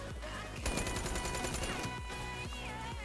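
Rapid bursts of automatic gunfire in a first-person shooter game, loud and close over layered game sound effects, with a brief pause and then a few more shots near the end.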